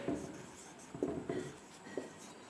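Pen writing a sentence by hand on paper, a few faint, short scratching strokes close by in a quiet room.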